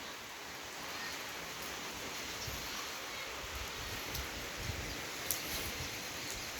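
Steady rain pours down on a rural Thai rice-farming homestead, a dense, even hiss that holds throughout with a few faint drips and taps close by.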